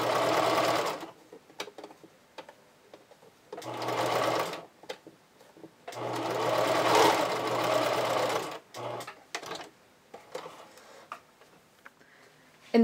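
A domestic sewing machine runs a zigzag stitch on lingerie fabric and elastic for a vintage-style bra, in several steady rattling bursts of a few seconds each with short quiet pauses between them, close and loud.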